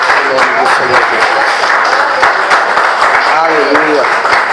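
A church congregation claps in sustained, even applause while a voice speaks loudly over it the whole time.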